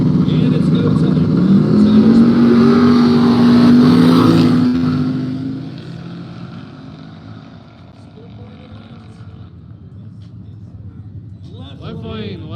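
Race car engines at a no-prep drag race in the woods, a loud droning rev holding a rising tone, then easing off to a lower rumble while an announcer talks over it.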